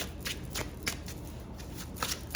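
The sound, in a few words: shuffling a golden tarot card deck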